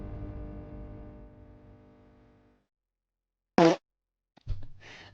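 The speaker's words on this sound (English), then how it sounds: "Just adding a fart sound for no goddamn reason." A long, loud, buzzing fart sound effect dropped into an edit, one drawn-out blast that slowly fades to silence, followed by short bursts of other noise.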